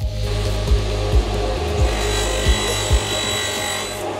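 Steady rasping saw strokes through wood, a continuous scraping texture with periodic low thumps roughly every half second, close and fairly loud, no voices.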